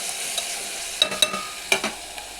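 Pieces of tender eggplant fry lightly in a pan for a tomato-eggplant curry, giving a soft, steady sizzle with several quick stirring clicks and scrapes.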